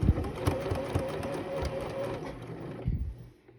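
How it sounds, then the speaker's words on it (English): A sewing machine topstitching sleeves, running loud and clattery because it needs cleaning, with a rapid mechanical chatter that stops abruptly near the end, close up with no talking. "machine making loud noises. It needs a desperate cleaning job."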